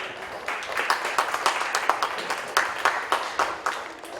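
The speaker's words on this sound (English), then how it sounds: "Give John a round of applause" Applause greets a polo player at The Villages Polo Club: a dense, steady patter of many hands clapping outdoors, with sharper individual claps popping out of the wash throughout.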